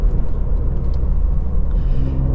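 A tuned Ford Fiesta ST Mk8 accelerating hard in third gear with the wheels spinning up, a loud, close engine roar and rumble that rises steadily throughout.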